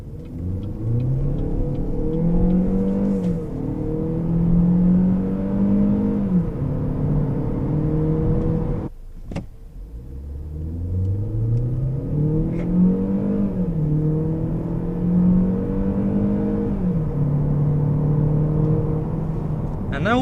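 A 2017 Opel Insignia Grand Sport with a 1.5 turbo engine accelerates through several gears from inside the cabin, engine pitch climbing and dropping at each shift, with a brief break near the middle.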